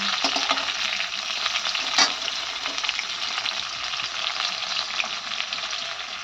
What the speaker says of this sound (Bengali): তো দেখতেই পাচ্ছেন পটলটা আমার ভাজা হয়ে গেছে